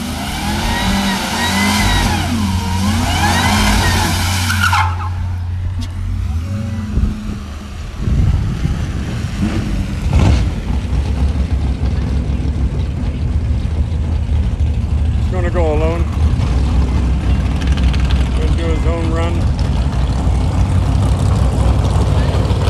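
Noisy truck engine at St Thomas Dragway during a drag racing shootout, revving and accelerating loudly nearby, with a sharp shift partway through and a sustained roar afterward, with people talking over it.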